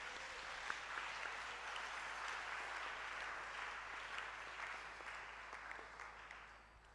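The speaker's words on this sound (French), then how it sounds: "On acclame le Seigneur." A church congregation applauding during a wedding blessing, a dense sustained wash of clapping from many hands that holds steady, then fades toward the end, somewhat distant and soft.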